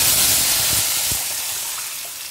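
Tomato rasam for paruppu rasam poured into a hot tempering of curry leaves and asafoetida, giving a loud, steady steamy sizzle and hiss that fades slightly toward the end, with a few soft pouring splashes.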